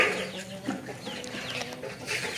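Chickens cluck and chatter close by in a short, busy run of overlapping calls outdoors on a farm.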